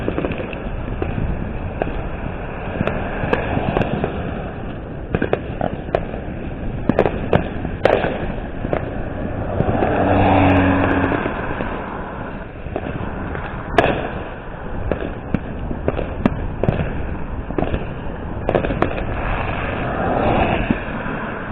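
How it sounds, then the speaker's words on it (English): Giant mortar shell fireworks bursting on the Fourth of July, a series of sharp booms and crackles at irregular intervals, some distant and some closer, over a steady outdoor background. "Giant mortar shells."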